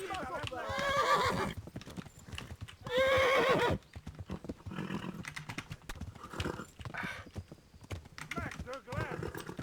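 A horse in the medieval game Kingdom Come: Deliverance neighs loudly twice, a long whinny near the start and another at about three seconds, while hooves clip-clop in a steady rhythm and someone talks quietly over it.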